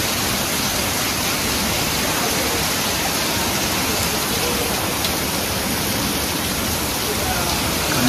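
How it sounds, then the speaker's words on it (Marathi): Heavy rain pours steadily on a village route near the sea, a loud dense continuous hiss and roar without pauses, filling the whole stretch. "पावसाला जोर आलेला आहे."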